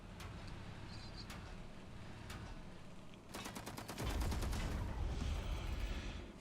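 Missile team attack fire in the strategy video game Zephon: a series of sharp, rapid shots in a fast volley, then a denser burst of fire over a louder rumbling battle bed.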